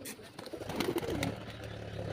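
Domestic pigeons, mated pairs with chicks nearby, give a low cooing call partway through, close and moderately loud over a steady hum.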